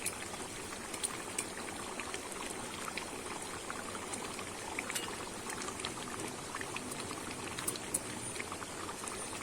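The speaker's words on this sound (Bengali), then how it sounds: "অল্প সময়ে একটু ফুটিয়ে নেব" Rui fish curry bubbles and simmers in a pan, a steady, soft fizzing and popping with no talk.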